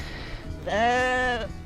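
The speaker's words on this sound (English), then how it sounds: "The sheep are coming to have a look." A sheep in a field lets out one clear, loud bleat lasting under a second, close by, with faint outdoor background before it.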